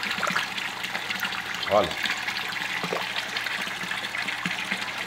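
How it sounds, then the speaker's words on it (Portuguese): Tilapia feeding on pellets at the water surface in a home fish tank make soft splashes and gurgles over steady trickling water, and a voice briefly speaks. "Vou jogar um pouquinho de ração agora para as tilápias, né?"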